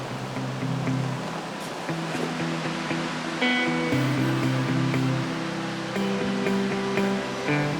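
Surf breaks steadily at the north end of a wild ocean beach along a backpacking route from the Hoh River to Third Beach. The wash is a continuous, fairly loud roar with no voices, and faint tonal sounds sit underneath it.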